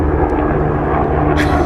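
An airplane passes overhead as a loud, steady, broadband engine roar that holds throughout the short stretch, heard over an indoor podcast conversation.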